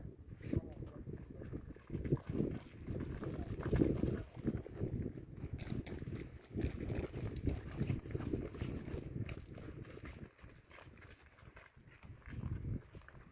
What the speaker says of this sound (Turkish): Selenge Nehri kıyısına geliyorlar. Oldukça besili, bakımlı, güzel atlar.